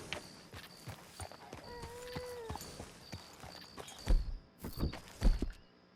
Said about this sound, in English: você tem um vínculo com este cavalo e responderá aos seus assobios e comandos